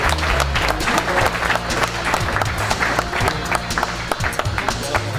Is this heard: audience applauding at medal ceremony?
yes